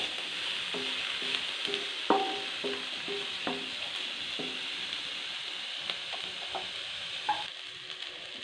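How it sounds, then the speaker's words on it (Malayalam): Green chillies and turmeric fry in a pan for bitter gourd thoran, with a steady soft sizzle and the repeated clink and scrape of a spoon stirring at close range. "ഇച്ചിരി മഞ്ഞൾപ്പൊടി ഇട്ട് ഇളക്കിക്കൊണ്ട് ഈ മുളക് ഒന്ന് വാടി വരട്ടെ"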